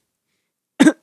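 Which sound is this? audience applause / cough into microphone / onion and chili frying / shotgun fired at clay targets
cough into microphone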